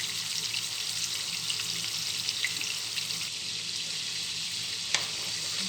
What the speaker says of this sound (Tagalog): Ito siya, fry ko na.